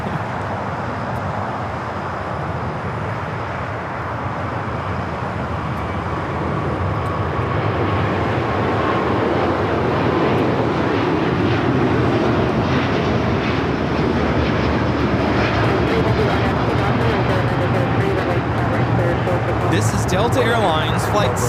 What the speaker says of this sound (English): We have a heavy takeoff.